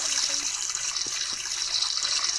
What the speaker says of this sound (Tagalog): mag-shower na tayo.